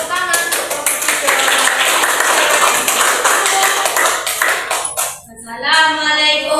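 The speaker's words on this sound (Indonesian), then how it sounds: "tepuk tangan untuk kelompok tiga" Classroom applause for a student group after a presentation, a loud run of fast, crisp hand claps that thins out near the end, followed by a voice speaking.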